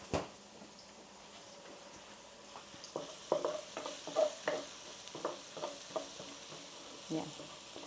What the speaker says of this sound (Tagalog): Sutay-sutay lang natin ang sibuyas until ma-caramelize ang sibuyas natin.